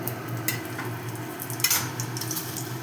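Two bay leaves sizzle in a little hot oil in a kadai for a pumpkin-greens chorchori, giving a steady close frying hiss with a few soft pops and a brief scrape.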